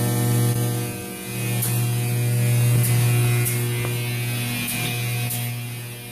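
A bottle printing machine with a drying light tunnel gives off a loud steady electrical hum, with faint mechanical clicks and ticks over the drone.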